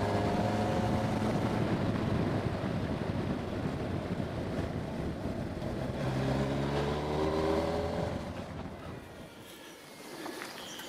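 A 2019 Kawasaki Versys 1000 SE motorcycle is ridden on the road, its smooth engine giving a steady rumbling drone mixed with heavy wind rush that eases off near the end.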